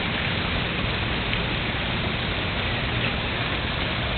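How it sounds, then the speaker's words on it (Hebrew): Rain pours into an outdoor swimming pool in Costa Rica, a continuous, dense, rushing patter that stays even and close throughout with no voices. "גשם בבריכה."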